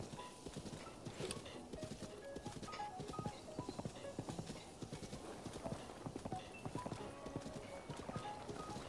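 Horse hooves clip-clop steadily in Zelda: Breath of the Wild as a mount moves along, with an occasional whinny and game music or effects layered underneath at a moderate, continuous level.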